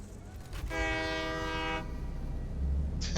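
In the video game Satisfactory, a train horn sounds one sustained, rich-toned blast lasting about a second, set over a low rumbling background, with a brief sharp burst of noise at the end.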